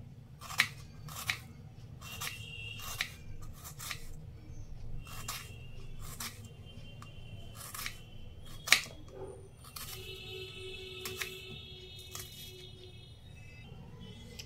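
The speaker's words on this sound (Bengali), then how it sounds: "দেখুন যতটা সম্ভব পাতলা পাতলা করে কেটে নেওয়া যায়, এইভাবে কেটে নিয়েছি" A knife cuts onions into thin slices for crispy fried onions, making crisp, quick snipping crunches in irregular clusters over a steady low hum, close up and fairly quiet.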